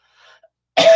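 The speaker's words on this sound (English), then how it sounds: "Dry cough." One sharp, dry cough bursts out close and loud at the very end, after a near-silent moment.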